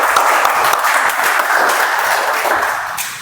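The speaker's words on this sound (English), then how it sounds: "I would like to call with a huge round of applause" A crowd applauds at a Toastmasters club meeting, loud and dense clapping close by that holds steady and then gradually tapers off toward the end.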